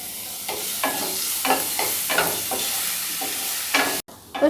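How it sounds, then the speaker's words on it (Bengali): Seven or eight crushed garlic cloves fry in hot oil in a pan, a steady close sizzle broken by repeated scraping stirs about every half second and a brief cut near the end. "7 থেকে 8 কোয়া রসুন আমি থেতো করে রেখেছি, সেটা দিয়ে একটু ভেজে নিচ্ছি।"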